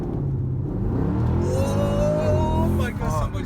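A 2009 Mercedes C63 AMG accelerates with a deep, steady rumble and a rising engine note, heard from inside the car and loud throughout with no talk over it.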